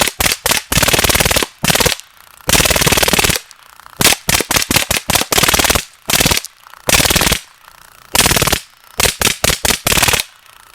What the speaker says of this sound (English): With the Drozd Blackbird, we're going to destroy some tomato soup cans.